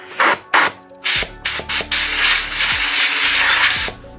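An air blower dries a video intercom handset during repair with several short, sharp bursts of hissing air, then one long steady blast of about two seconds before cutting off, close and loud.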